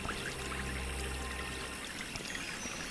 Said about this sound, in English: The water pump's running.